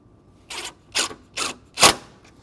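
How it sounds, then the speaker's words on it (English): An 8mm wrench tightens a ground wire eyelet onto a fender ground stud, giving four short metallic ratcheting bursts at a steady rhythm, close and clear with no talk. "So I'm going to get the wrench."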